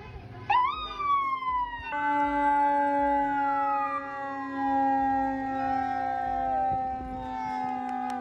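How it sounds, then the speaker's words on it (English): A loud siren wails and sweeps in pitch, rising sharply then sliding down, sustained over a low rumble. "We'd have the sirens blaring in the background"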